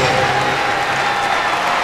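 Roaring applause from a crowd of some 80,000 in a Melbourne stadium at the 2006 Commonwealth Games opening ceremony parade of athletes, a dense continuous wash of clapping and cheering, loud and sustained.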